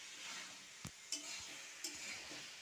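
Soybean chunks and potato are sautéed in a pan, a faint steady sizzle punctuated by three or four sharp spatula knocks and scrapes against the metal.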